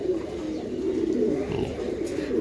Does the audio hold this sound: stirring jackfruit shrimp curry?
no